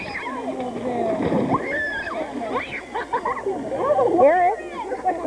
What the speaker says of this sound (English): Splashing?